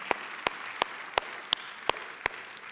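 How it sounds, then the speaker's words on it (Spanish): A church congregation clapping in slow unison, seven or so sharp evenly spaced claps over a faint hall background. "Dale un fuerte aplauso al Señor"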